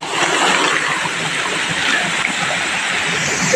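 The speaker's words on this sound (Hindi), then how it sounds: "पानी भी चल रहा है, बताओ।" Steady, loud rush of running water in a rainy jungle, continuous broadband splashing and gurgling close by, with no voices over it.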